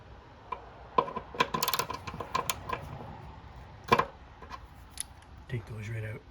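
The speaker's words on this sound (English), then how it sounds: "So now we'll just remove these two bolts, one on either side. So that's going to be a T30." Small metallic clicks and taps from a T30 Torx driver backing bolts out of a Ducati Scrambler, a quick irregular run of sharp ticks close by, with a scraping rattle near the end.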